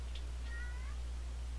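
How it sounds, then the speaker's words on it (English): A Minecraft cat gives a short, high, plaintive meow, faint over a constant low electrical hum. "Why are you crying, Kitty?"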